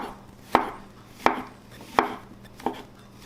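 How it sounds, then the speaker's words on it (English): A knife slices portobello mushrooms on a cutting board in four evenly spaced, crisp thuds, each with a short fading tail, close and alone. "now I'm going to slice my mushrooms"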